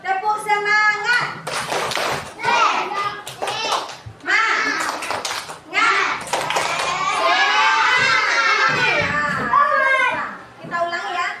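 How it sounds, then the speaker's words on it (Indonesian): Schoolchildren in an Indonesian classroom perform a rhythmic clapping chant, with bursts of clapping between shouted children's voices and a teacher speaking throughout. "Tepuk semangat."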